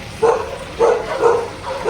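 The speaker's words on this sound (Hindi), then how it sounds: "Dogs have gone berserk." Dogs bark at night in a quiet town on the road from Tezpur to Tawang: three or four loud, fairly close barks at uneven intervals, with no talking over them.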